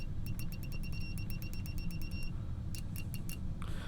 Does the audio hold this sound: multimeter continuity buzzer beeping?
yes